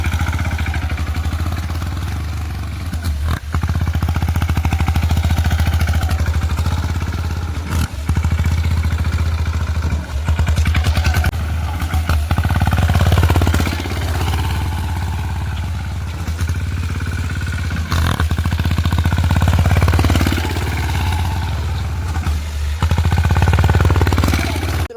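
Tractor engine working a farm field, a loud steady diesel chug with low rumble and clatter throughout, rising and falling in load several times as it drives across the ground.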